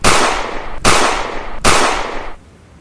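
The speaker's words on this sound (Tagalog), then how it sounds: "Ito ang baril. Iputok mo tapos tumakbo ka." Three loud gunshots from a fired gun, evenly spaced about a second apart. Each is a sharp crack followed by a long fading echo. Nobody speaks.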